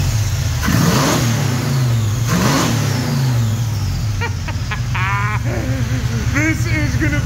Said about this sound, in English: This little motor runs absolutely phenomenal. I mean, just listen to this thing,